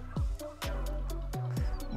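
Turkeys in a village farmyard gobble in quick, loud, close rattling bursts, several calls overlapping across two seconds.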